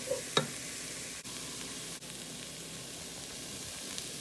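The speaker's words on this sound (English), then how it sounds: "we're going to just keep stirring it for a bit" Chickpeas frying in a pan while being stirred, giving a steady broadband sizzle throughout with a couple of brief scraping knocks near the start and no voices.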